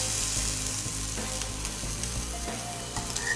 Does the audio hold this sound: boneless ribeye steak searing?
yes